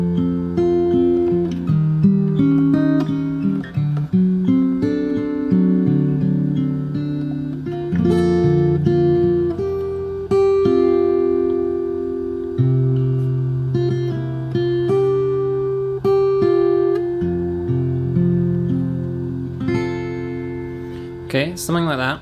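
Fingerstyle acoustic guitar playing the outro of a song, plucked chords and melody notes ringing out steadily and close, ending with a few high harmonics, no voices.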